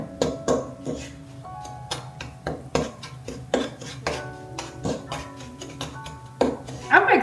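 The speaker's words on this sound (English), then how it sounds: "We're going to beat that just a little bit so that we get our egg yolks cracked" Egg yolks are beaten in a bowl with a utensil, a run of quick, bright clinking taps against the bowl in an uneven rhythm, close by, with a voice speaking at moments.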